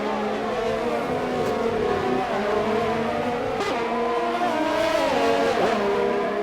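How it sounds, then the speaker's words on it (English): A Red Bull race car in an F1 racing video game at the Australian GP spins and hits the wall: a droning engine whine shifting in pitch, broken by sharp impact bursts. "Shadow Moses has spun and hit the wall"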